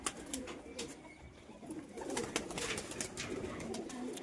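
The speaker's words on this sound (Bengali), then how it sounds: "লাও কবুতরগুলো ছেড়ে দাও।" A flock of pigeons being released: faint cooing with a few brief flutters of wings, fairly quiet and without talk.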